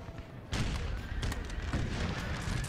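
Napoleon Total War battle musketry: ragged volleys of muskets crackle in dense overlapping bursts, loud and close, with sharper cracks standing out amid a continuous rattle of distant fire.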